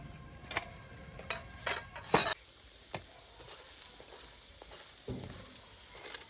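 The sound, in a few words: frying spinach paneer parathas in a pan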